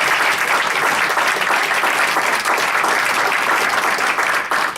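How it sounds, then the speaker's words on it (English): Loud, sustained applause from an audience thanking a panel at a crowdfunding event, a dense wash of clapping that holds steady for several seconds with no voices over it. "let's have a hand of applause for the panel"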